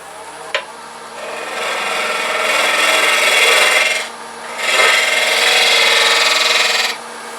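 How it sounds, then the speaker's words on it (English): A hand scraper works a turned wooden box spinning on a lathe, giving a close, loud rasping scrape in two long passes with a short pause between, and a sharp tick near the start. "Another approach is a scraper."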